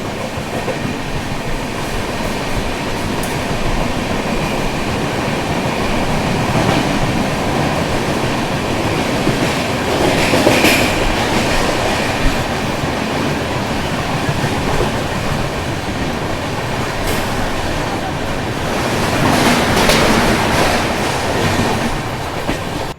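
Duronto Express train running at speed through Berhampur railway station, a steady loud rumble of wheels on rails with rhythmic clatter and passing surges, heard from inside a general compartment with no talking.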